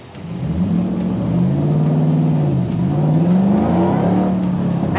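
A Ford Mustang S197 fitted with a Pedal Commander revs up, the engine note climbing and falling in a few quick sweeps, loud and close with no talk.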